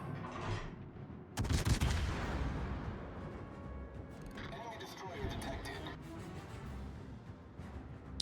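Naval gunfire from the warship Algerie in the video game World of Warships, with a heavy booming salvo early and further rumbling shots and mechanical clatter beneath a talking voice.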